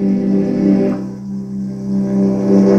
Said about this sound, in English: What a vocoder allows you to do is to combine your voice and or another instrument with the synth sounds.